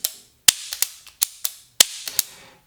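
Chiappa Rhino 50DS airsoft revolver dry-firing, a series of about nine sharp, close clicks and snaps in an uneven rhythm with brief pauses, no talking.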